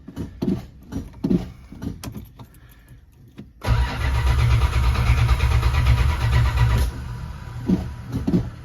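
A Chrysler Cordoba, 43 years old, cranks after a few soft clicks and knocks, then roars into a loud, steady run for about three seconds before dropping to a rougher idle with light rattles.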